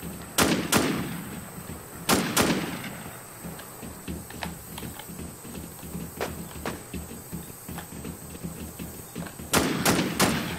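Gunfire in the survival video game War Z, near a clinic and out in the woods: a few sharp bursts of shots early on, isolated distant single shots through the middle, and another close burst at the end, over a steady insect-like ambient hum.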